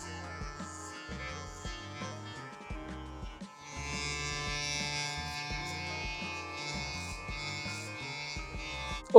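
Electric hair clippers buzz steadily during a self-administered haircut using progressively shorter clipper guards, a continuous close hum that grows louder partway through, with no talking.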